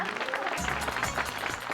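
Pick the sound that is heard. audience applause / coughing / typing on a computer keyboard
audience applause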